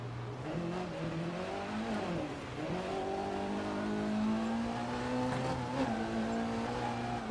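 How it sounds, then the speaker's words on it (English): Rear-wheel-drive rally car in EA Sports WRC on snow and ice, its harsh, rough-sounding engine droning and revving steadily throughout, with pitch rising and falling, a brief dip near the two-second mark and faint tire noise. "Definitely an awful sounding car."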